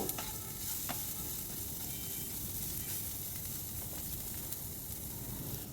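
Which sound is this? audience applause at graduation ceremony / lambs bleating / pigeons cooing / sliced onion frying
sliced onion frying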